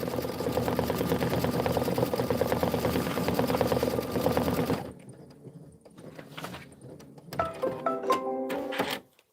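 A sewing machine runs a quilting pattern, its needle chattering steadily for several seconds, then pausing before short bursts of stitching and light clunks resume.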